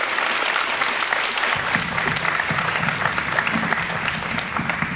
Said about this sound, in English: Let's give another round of applause for these amazing young writers.